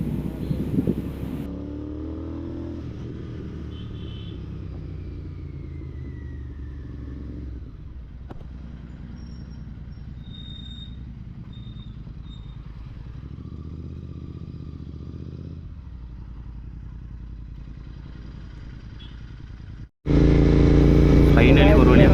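A GT motorcycle engine drones steadily while riding along a highway, with road and wind noise beneath a rider talking throughout, before a sudden loud burst near the end.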